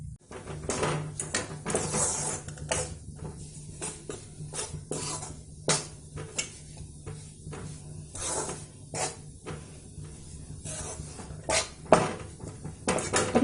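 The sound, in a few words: roasting gram flour (besan) in a pan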